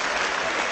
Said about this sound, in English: that's the first time I've ever received such applause